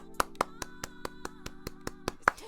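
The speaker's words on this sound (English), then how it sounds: "that is a round of applause for Stefan" A handful of hands clap at a steady, moderate pace, about a dozen sharp claps over a low sustained musical tone, fairly close and light rather than a big crowd.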